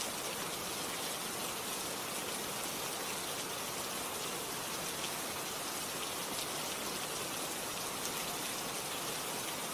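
Steady rain falls throughout, a dense even hiss of drops on surfaces with no pauses or voices, loud and close like a downpour heard at night from indoors.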